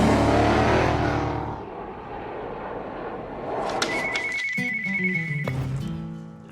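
A telephone rings inside a car workshop. After a stretch of engine rumble, a bright, steady electronic ring pulses loudly for a couple of seconds, followed by a lower tone.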